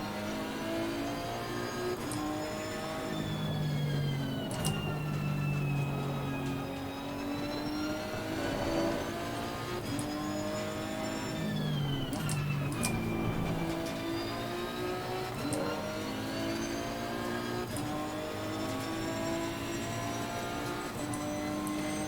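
Race car engine in Assetto Corsa Competizione, loud and continuous throughout, with rising and falling engine pitch as it revs up, shifts and slows for a corner, no talking.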